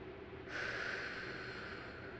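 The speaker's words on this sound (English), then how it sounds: "Take a nice deep breath." A single slow, deep breath drawn in and held, soft and close, with a faint airy hiss against a quiet background.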